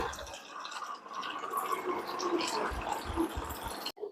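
Water pours into a bowl of soaking double beans in a home kitchen, a steady trickling fill that runs for several seconds before cutting off abruptly, with a few soft clinks near the end.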